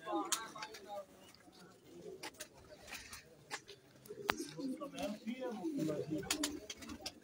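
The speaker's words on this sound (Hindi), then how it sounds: "ये उनके ब्रीडर कबूतर हैं।" Breeder pigeons on a rooftop loft cooing softly and intermittently, low throaty coos mixed with wing flutters and light clicks, with someone talking nearby.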